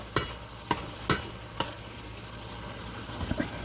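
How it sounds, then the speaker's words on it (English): A spoon stirs Jamaican-style curry chicken in a pot on medium heat after a little water has been added. Several distinct scraping knocks come at uneven intervals over a faint, steady simmering sizzle. "we're going to stir it up some more on medium"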